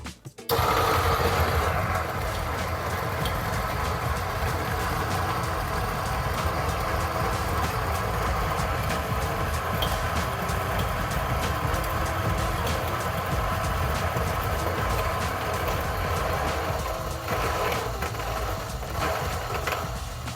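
A coffee grinder set to grind size 12 runs steadily on beans, with a dense, continuous whirring drone that holds loud and close from start to finish, while an espresso setup with a Lelit Bianca V3 sits nearby.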